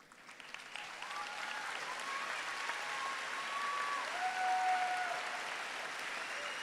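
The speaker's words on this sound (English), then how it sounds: "Will the cum laude students please stand to be recognized with a round of applause?" Faint, distant applause at a high school graduation ceremony as cum laude graduates stand, soft continuous clapping with a few thin tonal voices or whistles drifting above it.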